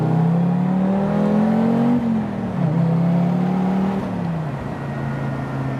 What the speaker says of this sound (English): You can hear that little 5-cylinder warble